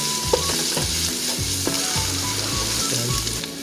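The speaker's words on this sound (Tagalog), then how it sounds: "Igigisa ang bawang at sibuyas." Garlic and onion sautéing in a pan, a loud continuous sizzle close up with rhythmic scraping of a spatula stirring throughout and no talk.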